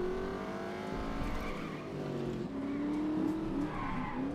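A race car driven through town in the video game The Saboteur, its engine whining through shifting gears with tire squeals, steady and moderately faint, with no voices.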